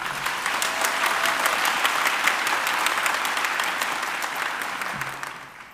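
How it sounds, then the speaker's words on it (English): An audience claps steadily for several seconds, a dense patter of many hands that slowly fades toward the end. "Let us please applaud her again."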